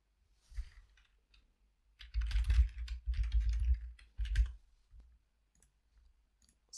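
Soft, close clicking of typing on a computer keyboard, a few isolated taps followed by three short bursts of quick keystrokes, then scattered faint clicks in a quiet room.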